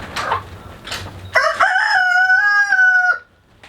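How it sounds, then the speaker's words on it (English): Backyard chickens in a deep-litter coop: a few soft clucks, then a loud, close rooster crow with a long, drawn-out final note. "Loud chicken."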